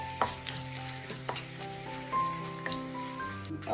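Dried red chillies frying in hot ghee and oil, stirred in the pan, with a steady crackling sizzle and occasional scraping clicks of the stirring spoon close by, no voices.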